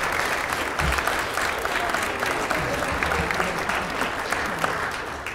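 A church congregation at a Sunday service claps in a steady, dense round of applause that carries evenly through the room, moderately loud with no talking over it.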